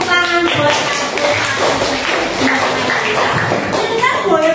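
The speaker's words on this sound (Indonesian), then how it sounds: "Tepuk tangan buat aku" An audience claps at a training session, a dense, steady patter of many hands lasting throughout, loud and close, with voices talking and calling out over it.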